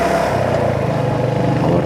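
A Royal Enfield Hunter 350 motorcycle accelerates to overtake on the road to Araku Valley. The single-cylinder engine hums loud and close from the rider's position, with a steady, throbbing tone and no talk over it.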